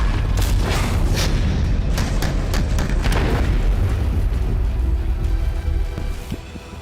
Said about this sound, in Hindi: ATAGS स्वदेश में बनी हिंदुस्तान की पहली होवित्जर तोप है।